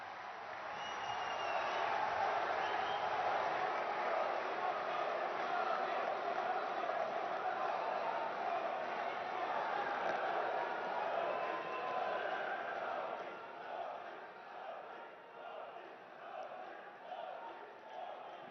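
Large audience applauding and cheering to welcome Prime Minister Narendra Modi at a Vande Bharat Express event, a dense sustained roar of clapping that stays loud for about thirteen seconds before thinning into scattered, fading claps.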